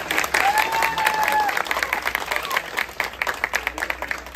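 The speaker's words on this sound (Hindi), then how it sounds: "जोरदार तालियों से स्वागत करेंगे" A crowd gathered at a home welcome gives an Olympia gold and silver medal winner loud applause, a dense wash of clapping with whistles and voices mixed in.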